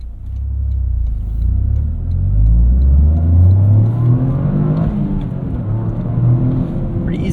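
2023 Toyota GR Corolla Core engine revving on a canyon run, loud and close, rising in pitch, dipping briefly for a quick gear shift, then climbing again under steady road noise.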